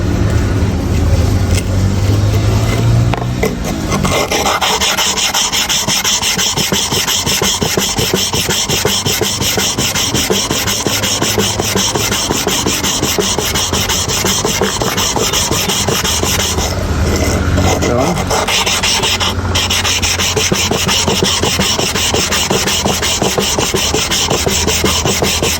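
A clipper blade rubbed on a sharpening stone, loud continuous rasping strokes that keep a steady back-and-forth rhythm for the whole stretch, with brief shifts in tone.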